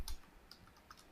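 Soft, quiet keystrokes on a computer keyboard, a few scattered taps over about a second while typing into a document, with no voices.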